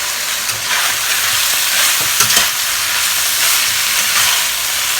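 Loud, continuous sizzling of sliced potatoes frying in a hot wok, a dense hiss with occasional stirring scrapes and crackles, no talking.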